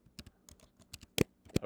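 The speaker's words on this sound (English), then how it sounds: "I'll just type it in" Quick, quiet typing on a computer keyboard while writing 6502 assembly code: about a dozen close, irregular key clicks in under two seconds, with two sharper, louder strokes near the end.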